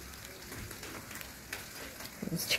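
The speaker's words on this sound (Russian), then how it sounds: "Идет дождичек." Light rain falls softly on rose bushes in a garden, a faint, quiet patter with a few scattered drops and no talking.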